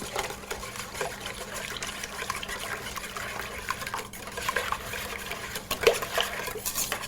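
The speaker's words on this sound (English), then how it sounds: "let's whisk this up" Salt and cinnamon whisked into a bread pudding mixture in a bowl, a steady soft scraping and clinking of the whisk against the bowl, close and continuous with no talk.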